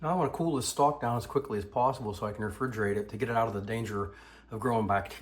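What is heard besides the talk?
None of the usual background noises is heard.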